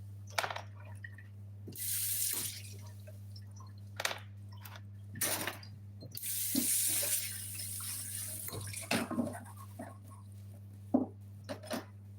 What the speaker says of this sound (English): I'll wash them, including the tomatoes.